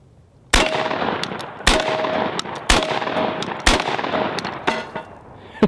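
A Beretta 1200 Police Riot 12 gauge shotgun fires double-aught buckshot at a steel target: four loud, sharp blasts about a second apart, each followed by a ringing metallic clang and echoing decay.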